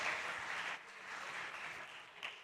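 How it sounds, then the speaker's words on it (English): An audience at a startup competition gives a round of applause, a soft, fairly distant patter of many hands that dips briefly midway and then continues. "One more time, a big round of applause for Sergio Gonzalez from Piper."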